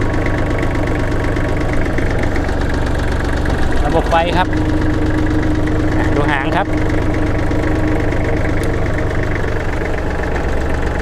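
A Kubota L3408 diesel tractor engine idles with a steady, low chugging rumble, while someone speaks briefly over it.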